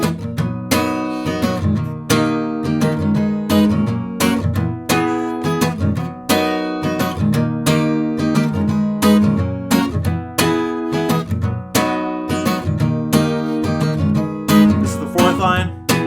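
A strummed guitar plays the chorus of a song in a steady rhythm of bright, dense chords for about sixteen seconds, close and clear with no voice.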